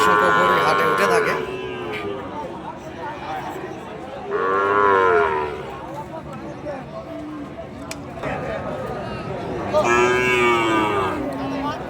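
Cattle at a busy livestock market, including Sahiwal and Gir calves, moo loudly several times over a crowded background, while someone talks throughout.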